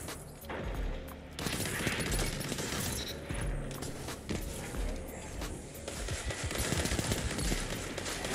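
Rapid bursts of gunfire from a weapon in the video game Destiny ring out over game sound effects and footsteps, loud and dense throughout.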